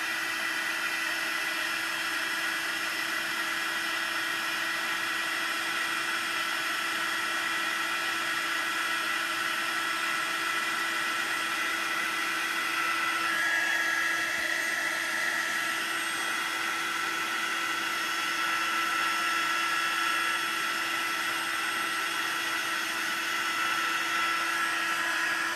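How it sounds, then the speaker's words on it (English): A heat tool drying watercolor paint blows with a continuous, even whirring roar that holds steady and close throughout, with no pauses or talking. "Here with my heat tool."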